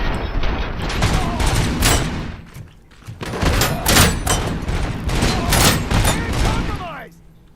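Dense, loud gunfire in the Robocop Rogue City video game, rapid bursts of shots blending into near-continuous fusillades with brief pauses, close and dominant throughout.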